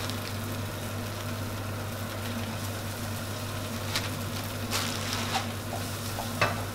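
Tofu sizzles in a hot pan while being stir-fried for pad thai, a continuous loud crackle with scraping stirs and a few sharper clinks against the pan.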